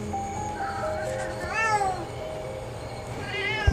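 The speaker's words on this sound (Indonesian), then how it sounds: "banyak kucing ya guys" Cats meowing in the video game Loop Hero, several drawn-out meows over game music and a steady background, fairly close and moderately loud.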